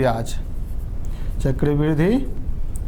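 A marker or chalk scratches out compound interest formulas on a board in short strokes while someone talks over it.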